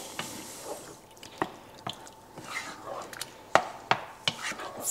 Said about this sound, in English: Now let's give that a stir.